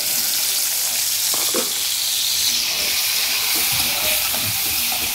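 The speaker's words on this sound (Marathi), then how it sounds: "ते आता आपण हे पनीर फ्राय करून घेऊया थोडंसं" Paneer coated with turmeric and salt fries in a pan, giving a loud continuous sizzle with occasional stirring clatter close by.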